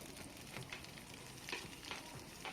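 Onions sautéing in a pan with crushed garlic and cumin, a soft steady sizzle with occasional stirring scrapes, quiet and close with no voices.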